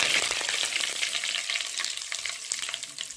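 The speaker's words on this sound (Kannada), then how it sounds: "ಕರಿಬೇವು ಹಾಕ್ತಾ ಇದ್ದೀನಿ" Curry leaves and mustard seeds hit hot oil in a pan, producing a loud, dense crackling sizzle that runs steadily for a few seconds with no one talking.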